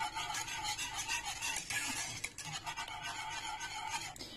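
Zucchini spaghetti in a cheese cream sauce is stirred steadily in a pan over low heat, giving a continuous close scraping and rubbing with a few brief clinks, no voices.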